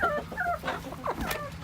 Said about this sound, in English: Got all the chickens on the roost here